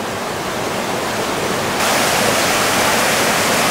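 A creek's water rushes in a steady, loud, continuous hiss from close by, with the flow growing slightly louder partway through and no voices.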